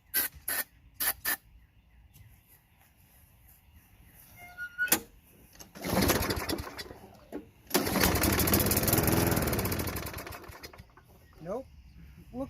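A Craftsman lawn mower's Tecumseh 5.5 small engine, primed with starter fluid after ten years of storage and suffering a leaking carburetor bowl gasket, cranks with pull-cord rattles, then sputters in two rough bursts of a few seconds each that die out.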